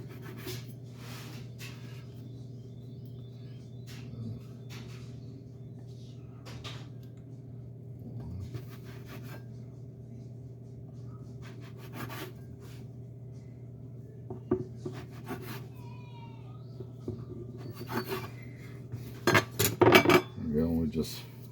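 Knife cutting homemade tortilla dough into six pieces, then halving them: quiet scattered taps and scrapes on a board over a steady low kitchen hum, with louder clicks near the end.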